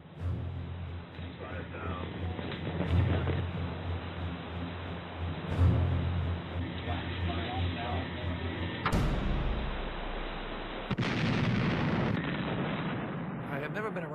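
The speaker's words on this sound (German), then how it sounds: "Ich war noch nie dabei, wenn Kanonen abgefeuert wurden." Naval cannons fire in World of Warships, several heavy booming shots with a rumbling low-end under a continuous battle drone, including a sharp loud blast near the end.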